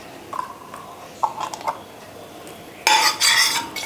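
A spoon clinks and scrapes against a kadai on a lit stove while ghee is spooned in, giving a few light metallic taps followed by a louder burst of clattering near the end.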